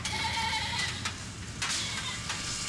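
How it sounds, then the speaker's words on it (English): A nanny goat bleating, a wavering tonal call in the first part followed by a few broadband rustles and knocks, moderately loud and close with no talking. "The nanny goat."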